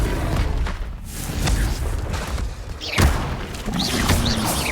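The Confringo blasting spell in Hogwarts Legacy goes off as a loud booming explosion with a sharp thump in the middle, over dense, noisy game sound.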